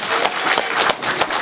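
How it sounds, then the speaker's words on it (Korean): Audience at a panel discussion on local administrative integration gives a short, loud burst of close, dense clapping. "크게 한번 박수로 한번 좀 중간 박수 한번 참여해 주세요."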